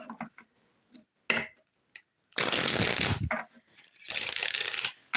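A deck of tarot cards being shuffled by hand, with a few short riffling bursts early on, then two long, dense ruffles close up; no one talks.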